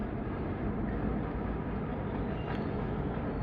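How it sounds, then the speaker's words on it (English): A long freight train rolls past at steady speed, a continuous rumbling and clattering of wagons held at an even, moderate level for the whole stretch, with no voices. "I don't want to spend a lot of time recording these trains."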